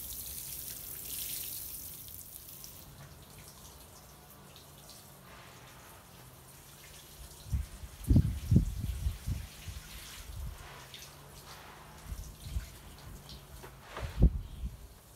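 Water splashes onto garden plants during watering, starting as a faint hiss and then turning into a run of louder, uneven splashes and patters near the microphone.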